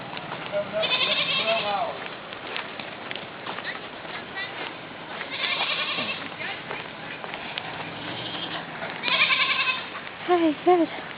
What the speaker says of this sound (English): Oh, I hear the goat.